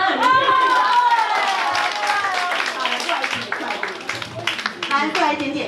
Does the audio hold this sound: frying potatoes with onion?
no